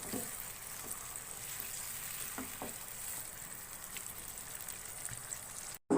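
Potatoes coated in spices fry on a medium flame, giving a steady soft sizzle with faint stirring scrapes, quiet and continuous.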